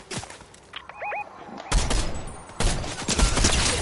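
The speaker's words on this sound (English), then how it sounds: "Oh, he just got a shot off at me." Gunfire aimed at the player in a video game: several sharp gunshot cracks and short bursts, some distant and others close and loud, with a bird-like chirp in between.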